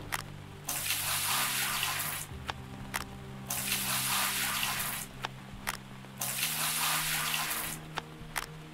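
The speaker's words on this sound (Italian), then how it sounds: "Vediamo se si può svuotare anche questo, anche se è pieno d'acqua." Water pouring out of an emptied bucket in the video game Gold Rush, bursts of splashing gush lasting a second or two each, separated by short quiet gaps with clicks and a low steady background hum.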